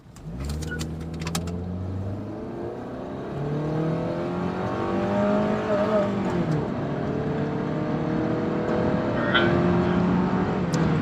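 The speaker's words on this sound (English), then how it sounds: "I'm just gonna stop, and then I'm just gonna accelerate." A Honda Accord pulls away from a stop, its engine note climbing steadily through rising revs up close, then holding a strong drone with shifting pitch as it keeps accelerating.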